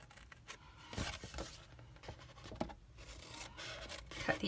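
Scissors snip and rasp through cardstock paper while cutting out a square ribbon lid box, a series of quiet, close scratchy cuts and rustles at an irregular pace.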